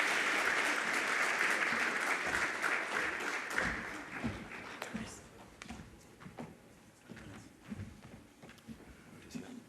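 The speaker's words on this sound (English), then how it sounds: "A round of applause for them, please." Audience applause at a Namibian public-private forum, loud sustained clapping from a large crowd for about four seconds, then thinning into scattered claps and faint room noise with some murmuring.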